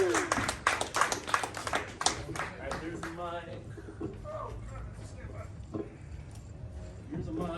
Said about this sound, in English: I give a big round of applause for Nic Lanier, Freeway Farrell, and Meier.